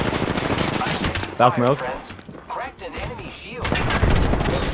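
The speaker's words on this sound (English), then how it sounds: "We're getting shot from another team." Bursts of gunfire from a team firing in the video game Apex Legends crackle steadily underneath players talking over each other, loud and close throughout.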